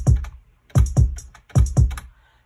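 A trap-style beat programmed in FL Studio 12, with crisp hi-hat ticks riding over booming low drum hits in a short looping pattern with one note shifted, loud and close with no talking.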